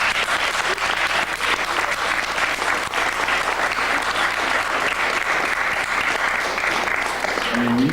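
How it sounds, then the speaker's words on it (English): Sustained applause from an audience at a Minority Technology Association event, dense steady clapping filling the whole stretch with crowd noise, with a voice faintly present beneath it. "Everybody give them a round of applause."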